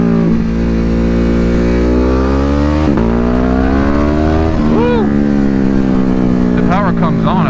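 A 2021 Ducati 950 Hypermotard engine revs up loudly and continuously, pitch rising and falling through several pulls with a shift in between, close and dominant throughout.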